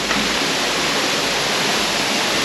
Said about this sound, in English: this waterfall is gonna be worth it for this footage